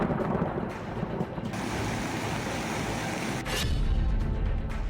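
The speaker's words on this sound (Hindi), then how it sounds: "गरजते बादल" Thunder rumbles low and long through a steady roar of heavy monsoon rain during flooding, with a louder swell of rumble toward the end.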